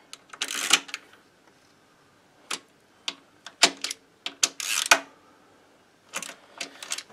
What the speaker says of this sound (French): Avec le cliquet, il paraît que c'est mieux quand même.